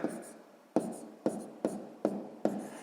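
Pen or pencil writing numbers on paper for a sixth-grade column multiplication, five or six short, crisp scratching strokes in a regular rhythm, close and quiet.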